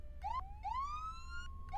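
An ambulance siren in the video game Flashing Lights wails in rising, repeating sweeps, steady and fairly close, with no voices over it.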